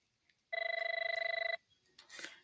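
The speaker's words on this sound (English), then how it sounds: "Sorry, my phone is ringing." A mobile phone rings with a single bright electronic trill lasting about a second, fairly close and clear, followed by a short rustle.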